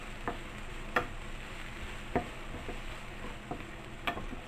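Jicama hash browns fry in a pan with a soft, steady sizzle, close and quiet, punctuated by a few sharp ticks and taps from a utensil against the pan.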